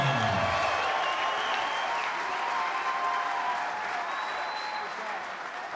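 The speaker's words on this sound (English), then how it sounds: "let's give both fighters another big round of applause" A crowd at an All Star Promotions fight night applauds both fighters after three rounds, steady dense clapping and cheering filling the venue for several seconds, easing slightly toward the end.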